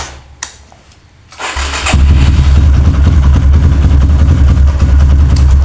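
An engine starter cranks briefly before the engine catches and settles into a loud, steady run. The engine is hard to start on cold mornings and has been started thirteen times in a battery test.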